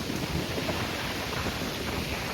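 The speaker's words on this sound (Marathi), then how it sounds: "आणि मस्त असा वारा सुटलाय लाडघर बीचला" Steady wind at Ladghar beach with sea waves, a loud continuous roar and rushing buffeting across the whole clip, no voices.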